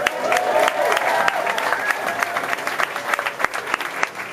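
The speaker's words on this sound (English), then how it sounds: "starting this season, so you guys can applaud that" Audience applause at a Belfast Giants hockey meet and greet in the Odyssey Arena, a crowd clapping steadily with some sharp individual claps standing out and faint cheering mixed in.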